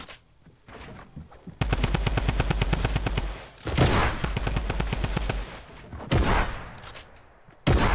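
Fortnite gunfire, a long machine-gun burst of rapid, evenly spaced shots followed by another sustained volley and a final loud blast, close and very loud with no talk.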